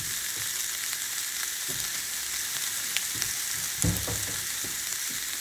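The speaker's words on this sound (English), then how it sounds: "And you put your nice looking steak. And let it cook for one side for 3 minutes." A thick ribeye steak sears on a dry cast iron griddle with no oil, a constant bright sizzle with occasional louder crackles and spits, close by and without talk.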